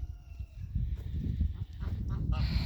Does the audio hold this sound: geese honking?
yes